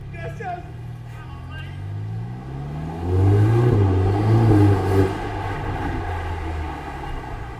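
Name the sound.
modified Ferrari Portofino accelerating, driven with paddle shifters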